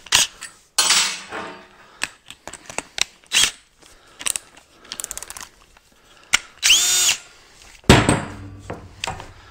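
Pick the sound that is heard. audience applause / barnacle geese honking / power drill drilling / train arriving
power drill drilling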